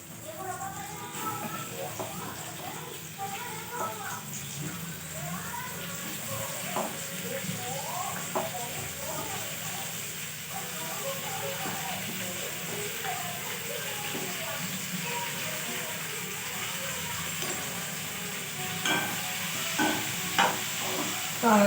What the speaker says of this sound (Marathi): तेल दापलं की आपल्याला पहिला कांदा टाकायचा आहे